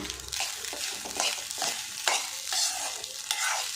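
A spoon scrapes and turns through a salted rice and radish mixture in a pan in repeated strokes, with a soft sizzle underneath; no talking.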